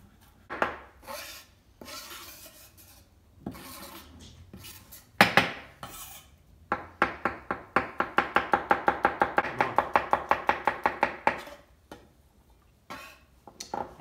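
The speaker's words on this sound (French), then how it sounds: "L'ail pour les boulettes, je vais les émincer, je vais les hacher." A kitchen knife chops and minces garlic cloves for meatballs on a cutting board. Scattered single strikes give way to a fast, even run of crisp taps in the middle, then a few sparse final cuts, with no talking.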